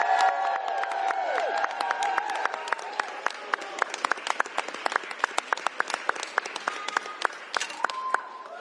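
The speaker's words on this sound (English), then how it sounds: "Give a round of applause for everybody and their hard work on this legislation." Crowd at a governor's bill signing applauds, dense clapping building into sharp, distinct claps over several seconds, with a few voices and scattered cheers mixed in.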